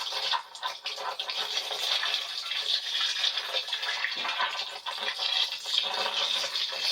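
Water gushing and splashing out of a drained 1939 Farmall tractor, a steady close hissing pour with a few sputters and gurgles, running alone without talk.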